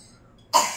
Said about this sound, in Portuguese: E essa tosse veio depois dos 3 dias